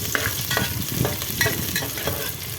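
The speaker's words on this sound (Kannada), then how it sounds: "ಈ ಗೋಲ್ಡ್ ಕಲರ್ ಬರಲಿ, ಈರುಳ್ಳಿ ಎಲ್ಲ ಬಿಡಿ ಆಗೋ ಥರ 1 ನಿಮಿಷ ಫ್ರೈ ಮಾಡ್ಕೊಳ್ಳೋಣ" Onions frying in oil for mint rice, a steady close sizzle broken by repeated scraping stir strokes of a spoon in the pan, with no voices.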